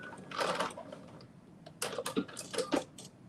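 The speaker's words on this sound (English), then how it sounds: "So I'm just doing a little bit of a basting stitch." A sewing machine runs a loose basting stitch on fabric for ruffle pants, whirring and clattering in two short bursts separated by a pause, fairly close and moderately loud.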